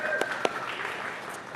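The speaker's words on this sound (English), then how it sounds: "But round of applause for hosting" Applause from a meeting audience for the hosts at a water authority board meeting, a short burst of clapping in a room with a couple of sharper claps standing out, then fading into room noise.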